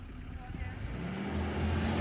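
A Suzuki Jimny's engine pulls off-road on a North Wales trail, a low, steady rumble that swells gradually louder as the vehicle gathers speed.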